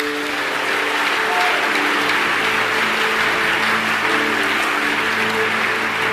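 A church congregation at a pastor's service applauding the Lord, with dense, sustained clapping filling the room and a faint musical hum underneath, with no speaking.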